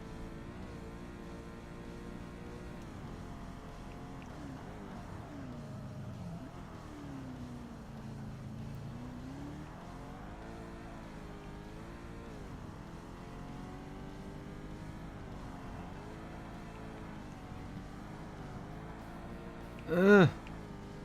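Race car engines in a Forza Motorsport race, including a Corvette, drone steadily and fairly quietly throughout, pitch rising and falling through gear changes, with a brief louder tonal sweep near the end.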